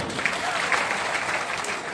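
An audience at a tribal cultural gathering in Butibori claps for community members, a dense, even roar of many hands close by that holds steady for the whole stretch.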